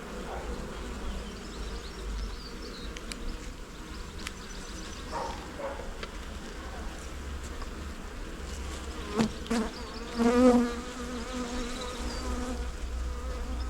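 Honey bees buzz continuously and close during a beehive inspection, a dense droning hum with a few louder passes and faint handling knocks.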